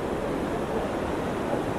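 Fast-flowing mountain stream along the Manimahesh pilgrimage route near a damaged bridge, a steady, dense rush of water that fills the whole moment with no pauses.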